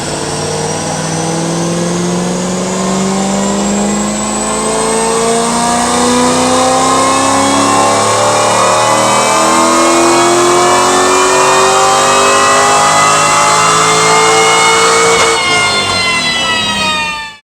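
A powerful LS1 V8 engine in a C5 Corvette Z06 revs hard and continuously on a dyno, its pitch climbing steadily for many seconds before dropping sharply and cutting off at the end.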